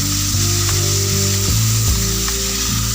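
Marinated chicken fries in melted butter for chicken soup. A loud, close, constant sizzle runs throughout, with a few scraping and knocking sounds from stirring and no voices.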